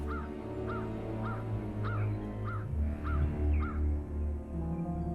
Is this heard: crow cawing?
yes